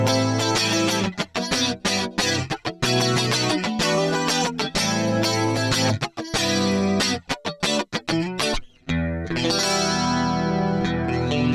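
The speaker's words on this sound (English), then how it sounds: "I'll let you hear this without the chorus and then with it, and the chorus really, really brings it to life." An electric guitar plays a distorted, chorus-drenched riff through a Line 6 HX Stomp 1980s-style preset, loud and up close, with choppy chords, short gaps, and a sustained ringing tail near the end.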